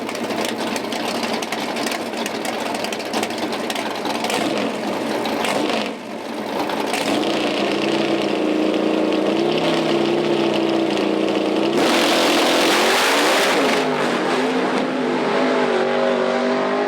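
Pro Stock mountain-motor drag cars launch and race down the strip at a PDRA North vs. South shootout at MDIR, with loud sustained engine roar that rises and shifts in pitch through gear changes.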